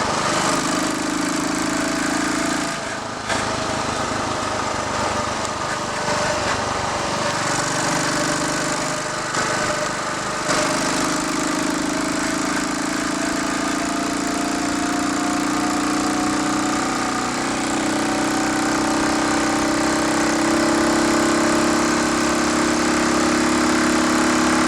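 A Royal Enfield Bullet Watsonian 500T single-cylinder engine thumps and revs on a test ride, with a steady, loud drone that rises and falls in pitch. Brief dips in the noise break the sound near the start.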